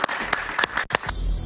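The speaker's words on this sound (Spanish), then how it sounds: "Un aplauso para él, por favor." A studio audience on a Spanish-language talk show claps in quick, bright bursts for about a second, followed by a steady wash of broadband sound.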